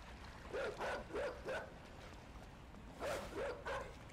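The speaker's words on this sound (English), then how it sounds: "That's a dog." A dog in a video game barks in two quick bursts of three short, fairly faint yaps, separated by a pause, over a low background hum.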